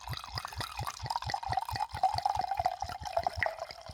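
Liquid trickles into a glass in a quick, rhythmic gurgle of glugs, heard close and fairly quiet without speech over it.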